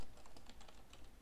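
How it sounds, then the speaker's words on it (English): Quick, light clicking of fingers typing on a computer keyboard, a short burst of keystrokes heard close and faint with no talking. "Type the city,"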